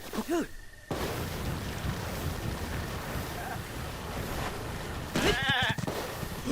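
A goat charges in Zelda: Breath of the Wild, bleating in a short wavering call at the start and again near the end, over a steady wash of wind and ambient noise.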